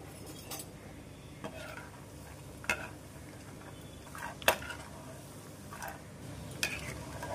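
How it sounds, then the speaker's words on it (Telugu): Peanuts frying in oil in a pan while making homemade mixer snack, a soft, low sizzle underneath occasional clinks and scrapes of a utensil stirring against the pan. "దీంట్లో కొద్దిగా పల్లీలను ఇలా వేసేసి 1 నిమిషం ఫ్రై చేసేసుకుందాం."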